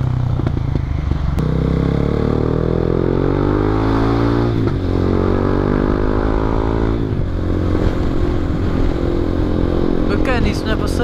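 A vehicle engine revs hard twice in succession, its pitch climbing and falling back each time over a steady idle, loud and close, with rattling clatter near the end.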